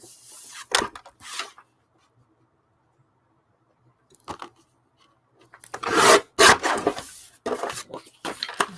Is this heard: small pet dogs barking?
no